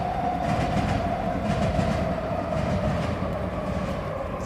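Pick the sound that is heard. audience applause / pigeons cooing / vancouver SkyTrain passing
vancouver SkyTrain passing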